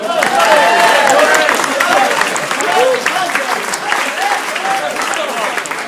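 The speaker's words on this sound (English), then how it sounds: "Can we have a round of applause?" Audience applause at a casual summer 2011 gathering, a dense steady round of clapping lasting the whole stretch, loud and close with some voices mixed in.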